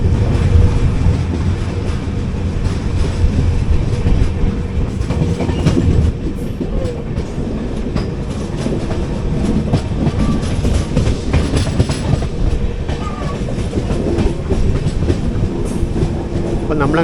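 The 12805 Janmabhoomi Express running on rails, a loud, steady rumble with rhythmic clickety-clack of wheels over joints heard from inside the train, continuing without pause.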